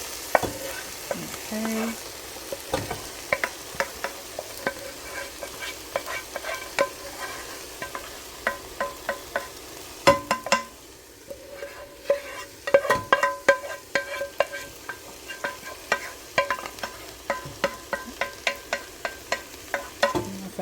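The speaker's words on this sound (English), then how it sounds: "And now let's add in our cleaned split peas." Cleaned split peas added to a pot and stirred, with a quiet background sizzle and repeated sharp scraping and clinking of a utensil against the pot in an irregular rhythm, plus a brief spoken word.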